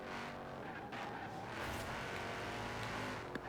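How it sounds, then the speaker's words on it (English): A car's exhaust burbles and gurgles steadily in a racing video game, a low rumbling engine note held at moderate level across the short stretch with no talk. "Love the gurgle of the exhaust."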